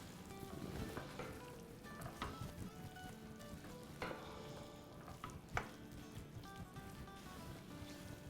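Cooked peas, corn and other vegetables are stirred into sauce in a pan for kids' sandwiches, a soft crackling sizzle with repeated scraping stirs and a few louder clacks, faint and close.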